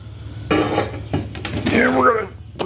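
Metal tongs clatter and scrape against a fire pit grill, a few sharp clinks and rattles close by in a short burst with some background noise.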